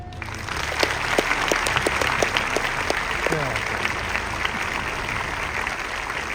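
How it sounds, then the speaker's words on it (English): A graduation ceremony audience breaks into sustained applause, dense clapping that rises within the first second and holds steady to the end, with some voices mixed in. "please join me in a round of applause to thank family, friends, and supporters who helped us each reach this day."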